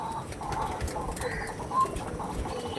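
Andhra and Kalanka pigeons cooing softly among a steady noisy background, with faint scattered calls and no clear voice over them.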